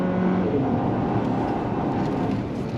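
A 2024 GMC Acadia AT4 SUV with all-wheel drive and off-road spec tires accelerating hard in sport mode, a steady loud engine and road roar heard from inside the cabin with no talking.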